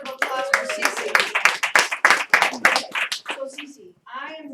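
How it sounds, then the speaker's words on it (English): A small audience claps for a volunteer invited on stage, a dense round of hand claps lasting a few seconds, with a voice and a few other voices mixed in near the end. "Could I get a roaring round of applause for Cece?"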